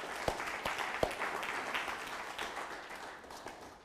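Conference crowd applauding after a talk at a cannabis law reform convention, a moderate, even patter of clapping with a few sharper near claps standing out, gradually thinning toward the close.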